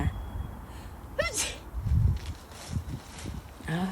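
Someone sneezes once sharply outdoors while gathering wood ear mushrooms, with rustling and footsteps around it and a second short burst near the end.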